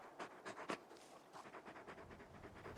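The big dog companion in the video game Final Fantasy XVI pants faintly in soft, breathy bursts at an uneven rhythm. No one talks over it.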